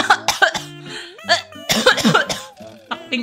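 Several harsh coughs burst out amid laughter and voices during an online Roblox puzzle game, loud and close, clustered in two short fits.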